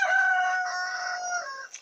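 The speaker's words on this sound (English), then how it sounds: "that rooster really is very vocal right now, huh?" A rooster crows once, loud and close, in a long drawn-out call lasting under two seconds, heard alone with no talk over it.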